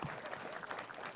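Audience applause fills a lecture hall at a state congress in São Paulo, a dense, steady wash of clapping from many hands that holds at an even level for the whole short stretch.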